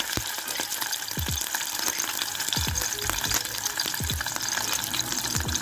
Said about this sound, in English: our oil is at the right temperature, so we're just gonna submerge this lobster